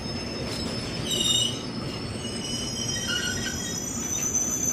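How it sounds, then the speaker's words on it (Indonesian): A passenger train arrives at Bogor station with a continuous rumble and high metallic wheel squeal, moderately loud, while insects chirp faintly in the background. "dari arah selatan masuk kereta api."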